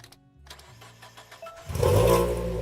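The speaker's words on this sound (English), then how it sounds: "Let's go ahead and try cranking it and see what happens." A car engine in the video game Wrench cranks briefly, then catches and roars to life, settling into a loud, steady running rumble.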